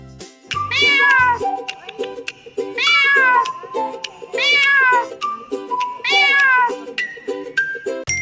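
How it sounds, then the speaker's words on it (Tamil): A domestic cat meows four times in a steady, evenly spaced series, each cry clear, loud and close, rising and falling in pitch, with faint background music beneath and no talking. "பூனை எப்படி கத்தும்? மியாவ் மியாவ் என கத்தும்."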